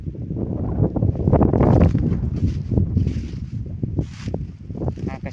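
Gusts of wind buffet a microphone outdoors in a garden, a loud, low rumbling roar that swells and fades unevenly, with faint rustling above it and no clear speech.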